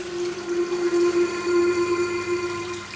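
Water gushes from a broken tap inside a room, a continuous, fairly loud rushing wash underlaid by a steady humming tone, with no pause.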